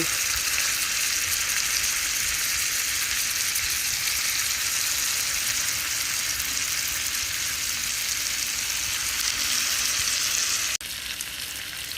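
A marinated salmon steak fries in butter in a pan, producing a loud, steady, close sizzle that crackles evenly throughout and drops slightly near the end.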